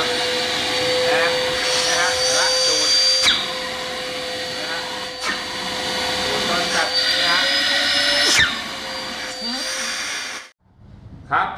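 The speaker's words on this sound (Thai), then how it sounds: "เป็นเครื่องดูดฝุ่นที่เสียงดังนะครับ" A portable dust collector vacuum runs loud and close, a steady high whine with a strong droning tone that holds for several seconds before cutting off abruptly near the end; someone talks over it.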